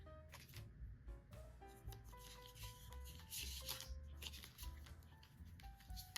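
A deck of playing cards being shuffled by hand, with repeated rubbing and riffling textures over a steady bed of music with clear melodic notes throughout.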